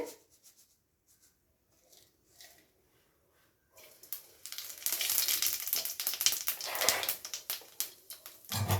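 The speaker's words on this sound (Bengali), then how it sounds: "এবারে সম্বার দিয়ে দেবো সামান্য একটু গোটা জিরে" Whole cumin seeds hit hot oil for tempering in a fish curry pan after quiet stirring, and a bright sizzle swells up and crackles steadily for several seconds, close and moderately loud, with no talking.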